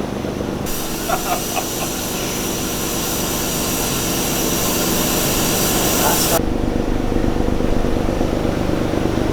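Chevrolet Camaro engine on a dynamometer with nitrous, roaring loud and steady in a wide-open pull, with a sharp hissing spray layered on top for most of the run before dropping back to the engine drone.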